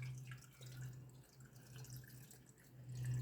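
Lime water, made from pickling lime and water, is poured over eggs in a glass jar, giving a steady liquid pour and trickle at close range with a low background hum and no talking.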